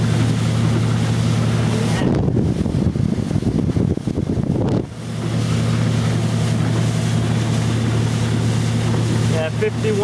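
Electric speedboat running at full throttle around 51, a steady loud drone of hull and water rush with wind, briefly broken by a burst of splashing spray midway.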